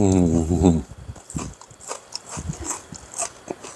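Someone bites and chews crispy, over-fried Pak Phanang mullet fish, making a series of close, irregular crunches and chewing sounds after a brief burst of voice at the start.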